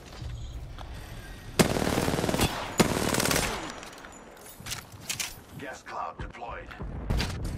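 Bursts of rapid automatic gunfire in Apex Legends crackle loudly with sharp shots, over a busy game soundscape and voices talking underneath.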